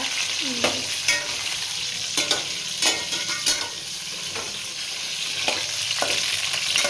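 Peanuts roast in hot oil in a pan while being stirred, a steady close sizzle broken by sharp scraping and clattering strokes of the spoon at irregular intervals.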